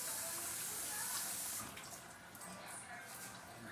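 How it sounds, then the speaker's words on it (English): Hands are washed under a running kitchen tap, with a steady rush of water that is loud for the first second and a half, then softer and splashier as the hands move through the stream. "Wash my hands"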